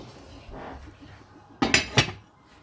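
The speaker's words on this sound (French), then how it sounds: "Je vais mettre mon couvercle" Metal lid set onto a cooking pot of simmering blanquette de veau, two or three close clanks in quick succession over a quiet kitchen background.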